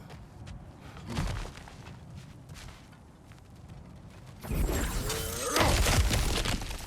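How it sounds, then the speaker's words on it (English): Objects smash and shatter in God of War Ragnarök, with a few crunching impacts early on and a louder burst of breaking debris and crashing fragments near the end. "back to smashing through things for fun and profit"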